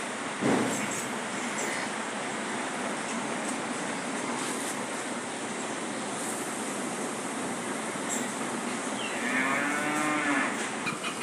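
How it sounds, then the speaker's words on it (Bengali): Holstein Friesian cattle stand on a farm under steady, loud background noise. Near the end a single long, drawn-out moo rises clearly above the noise. "দেখেন একটা ষাঁড়,"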